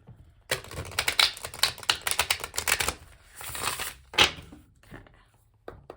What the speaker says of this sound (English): we'll just do one more shuffle, like one more big shuffle, and then we'll cut